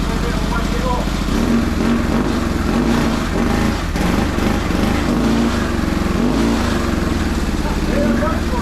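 A homemade adventure motorcycle's engine runs loudly and steadily with a rough, pulsing idle and some throttle blips, while people talk over it.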